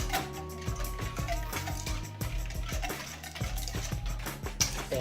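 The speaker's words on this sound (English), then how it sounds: "give it a good whisk" A whisk beats coleslaw dressing made with vinegar, producing quick rhythmic ticking strokes against the bowl that continue steadily throughout at a moderate, close level.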